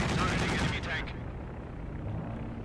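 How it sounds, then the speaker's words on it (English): A Kanonenvogel aircraft fires its 37mm cannons in Company of Heroes 2, a burst of rapid heavy shots that cuts off after about a second, leaving a low rumbling game backdrop. "Kanonenvogel unleashes its 37mm cannons, doing a bit of damage there to the KV-1s."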